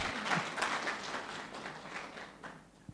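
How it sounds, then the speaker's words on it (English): Short burst of audience applause at a graduation ceremony for a psycho-trauma healing course, a dense patter of clapping that eases off slightly toward the end. "Another round of applause for Robinson"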